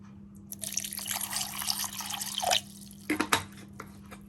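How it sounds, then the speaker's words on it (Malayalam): Water pours into a blender jar holding curry leaves in a steady close splashing stream for about two seconds, followed by a few separate splashes and drips. "ഇനി നമുക്ക് ഇതിലേക്ക് ആവശ്യത്തിനുള്ള വെള്ളം കൂടി ഒന്ന് ഒഴിച്ചു കൊടുക്കാം."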